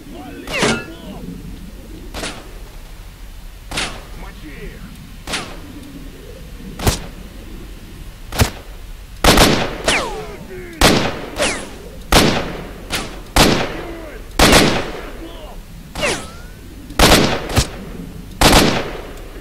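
Rifle shots in S.T.A.L.K.E.R.: Shadow of Chernobyl ring out as sharp, loud cracks, sparse at first then in quicker irregular bursts with short echoing tails, over faint ambient game noise.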